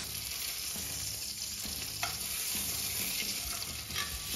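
A thick New York strip steak sizzles loudly in a pan, close and constant, with a few scraping clinks from tongs as it is flipped and no talking.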